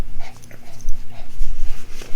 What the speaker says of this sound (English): The dogs would provide the muscle for Shackleton's expedition.